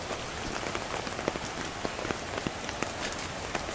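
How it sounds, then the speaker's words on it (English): Heavy rain pours steadily in a rainforest, a dense continuous hiss with scattered louder drops pattering on nearby surfaces, no voices. "Oh my goodness, it's raining like crazy."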